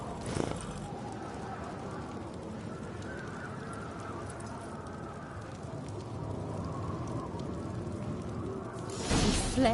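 Horse hooves clip-clop steadily in a PS4 video game, a soft continuous rhythm under ambient game sound with a brief louder burst at the end.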